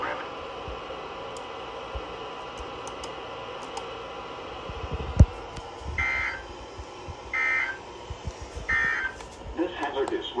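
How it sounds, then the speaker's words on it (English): NOAA Weather Radio weekly test warning alarm tone for Kentucky counties, heard as three short, loud steady tone bursts in sequence over low background hiss and radio noise. "Weather Services radio public warning alarm."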